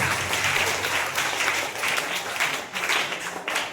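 Applause from an audience at a school award and certificate distribution program for a quiz competition, steady clapping throughout with no talk.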